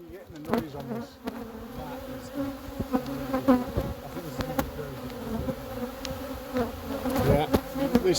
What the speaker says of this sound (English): I'm covered in bees. Look at them all over our hands. Oh my god, bees are very aggressive.